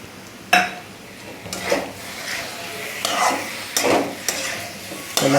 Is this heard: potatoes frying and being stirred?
yes